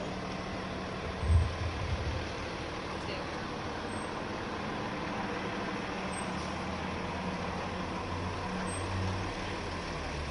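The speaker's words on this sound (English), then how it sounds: "let's just let the truck go by" A truck drives past near a mural on an MLK building in Springfield, a low engine rumble rising and fading over traffic noise, with a brief thump near the start.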